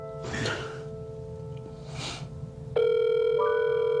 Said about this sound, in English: Reaches for the phone right, and dials his mom's number.